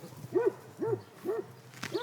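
Several dogs barking at an unfamiliar visitor on a property with a paddock, four evenly spaced barks at moderate distance, with no talking.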